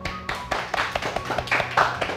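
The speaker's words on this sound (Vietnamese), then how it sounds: "Mọi người cho một tràng pháo tay nào." Office colleagues clap their hands in welcome for a new coworker, a brief burst of scattered, fairly close claps lasting a couple of seconds.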